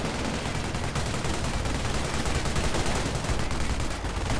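MG42 machine gun fire in a strategy video game, a dense continuous rattle of gunfire mixed with battle noise, loud and unbroken.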